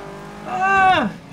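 A car braking and skidding in Forza Horizon 3 on PC, heard as a short, loud tyre squeal whose pitch sweeps down over about a second before fading.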